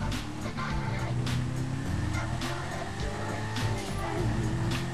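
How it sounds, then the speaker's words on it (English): Car engine and road noise in GTA V as a vehicle is stolen, a steady loud rumble with faint tire and skid sounds running throughout. "So yeah, I'm stealing this guy's car."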